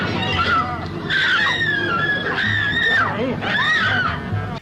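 Several voices scream in overlapping, drawn-out cries during a tense cave-rescue scene from the first Doctor Who episode, loud and anguished, rising and falling in three bursts.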